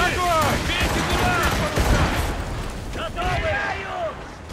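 Naval cannon volleys booming aboard a sailing warship in the video game Assassin's Creed Rogue, loud repeated blasts layered with shouted commands from the crew.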